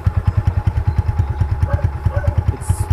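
A Suzuki Gixxer 150 motorcycle with a cut muffler idles close by, a loud, raw exhaust thumping in rapid, even pulses with a slight clattery edge.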